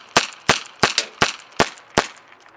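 A Dan Wesson CO2 airsoft revolver fires six sharp, snappy shots at a steady pace, each a crisp pop with a short decay, close up with no talking.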